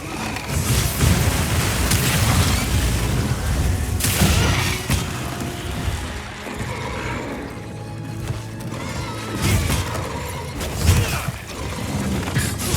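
Heavy booming impacts and crashing blasts from zero-sum discharge explosions while fighting a monster in Monster Hunter Wilds, loud and repeated across the stretch with clattering mechanical effects between them.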